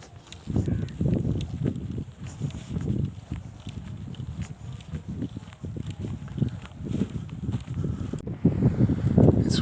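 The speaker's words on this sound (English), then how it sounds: "It's windy as hell in the morning on the second day" Strong morning wind on a golf course, gusting and buffeting the microphone in heavy, uneven surges with scattered thumps, loud and continuous with no voices.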